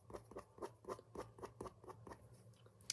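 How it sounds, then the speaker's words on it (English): A pen scratching and brushing across paper while doodling, a steady run of about a dozen short strokes in an even rhythm, quiet and intimate with no talk, ending in one sharper tick. "That sweet ASMR sound when like you hear the pen brushing against the page"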